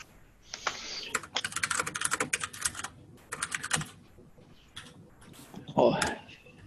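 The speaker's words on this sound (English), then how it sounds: "you got to click at a keyboard though" Bursts of rapid clicking from someone typing on a computer keyboard, close and fairly quiet, stopping and starting in short runs with brief pauses between them.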